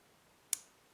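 A single small, crisp click as a pin sets while a 7-pin Laperche dimple lock is being picked, close but faint against a near-silent background.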